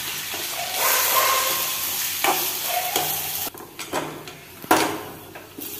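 Grated coconut stirred and roasted in a pan with curry leaves for a spice masala, a steady dry sizzle broken by repeated close scrapes and clinks of a spoon against the pan, with no talking.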